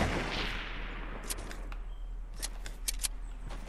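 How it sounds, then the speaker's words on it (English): Distant gunfire in Fortnite: a scattered series of faint, sharp cracks and short bursts pops at irregular intervals over a low steady background hum. "They're shooting at someone."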